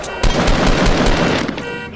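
A burst of rapid gunfire in the video game Fortnite, loud and close, several quick shots in a dense string, fading out near the end.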